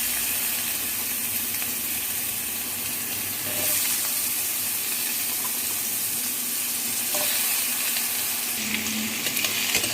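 Raw banana and potato pieces, coated in salt and turmeric, fry in a pan of hot oil over black cumin with a steady, dense sizzle. Occasional stirring scrapes break in while the hiss stays close and even.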